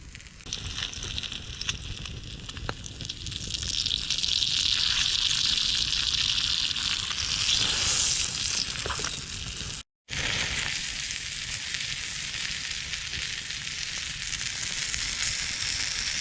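Bacon-wrapped chicken sizzles and crackles in a pan over an outdoor campfire, a steady close frying hiss that swells louder midway, breaks for a moment, then carries on evenly.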